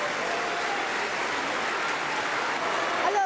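Steady, dense applause from a concert audience, an even wash of clapping held throughout at moderate distance.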